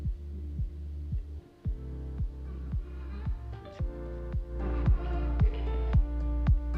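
Music filtered so only the low end remains, as if playing from inside a closed box: a muffled, thumping bass pulse with steady beats and a dull hum, no clear highs.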